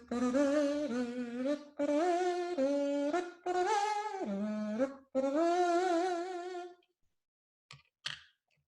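A plastic kazoo with a paper membrane is played in four sustained buzzing notes, each a second or more long, with a few small clicks after the last note.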